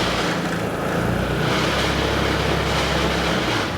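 Vespa GTS 250 scooter engine, a 2006–2009 model, revving up to a loud sustained roar that holds high throughout, with no talking.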